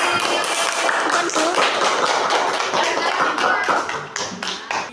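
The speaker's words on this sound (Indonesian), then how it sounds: "tepuk tangan." Schoolchildren in a classroom clap their hands together in a dense, continuous burst of applause that stays loud and close, thinning slightly toward the end.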